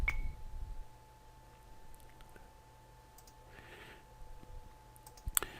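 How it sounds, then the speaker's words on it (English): A small electronic blip sounds from a software button being clicked, a single brief faint click-like tone against quiet background hiss, with a couple of soft ticks earlier. "as I click that button, you can hear the little blip sound"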